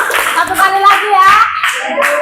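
Children clap in a rhythmic classroom cheer, bursts of hand claps mixed with young voices chanting along at close range.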